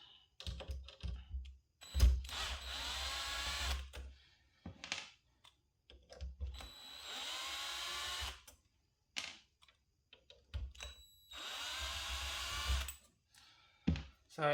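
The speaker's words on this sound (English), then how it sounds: "I will use the power tool for at a relatively low speed" Power tool at low speed driving screws out of an Invicta lithium battery pack, several whirring bursts of a few seconds each, interspersed with clicks and handling knocks.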